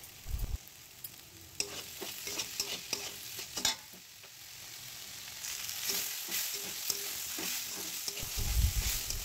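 Banana stem curry with tomato, grated ginger and moong dal is stirred in a pan, producing a soft sizzle under repeated scraping and clinking spatula strokes that come in irregular bursts and grow busier toward the end.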